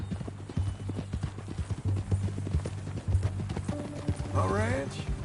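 Horse hooves clip-clop steadily on the ground in Red Dead Redemption 2 in a continuous rhythmic walking pattern, with a brief whinny near the end and low background music throughout.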